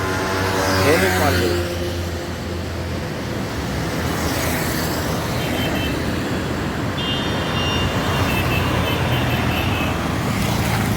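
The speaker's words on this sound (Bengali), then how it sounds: "ওই যে গাড়িগুলো যাচ্ছে ওগুলো এয়ারপোর্টের দিকে সব যাচ্ছে আর এই গাড়িগুলো আসছে" Cars and trucks roll past at the Kalikapur traffic signal beneath an elevated metro line, a dense continuous roar of road traffic close by, with a horn blaring at the start and a thin high tone later.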